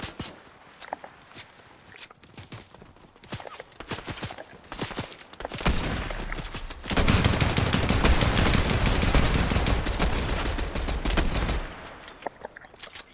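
Shooter video game gunfire: scattered single shots and footsteps, then a dense sustained burst of rapid automatic fire for several seconds that cuts off, followed by a few more isolated shots.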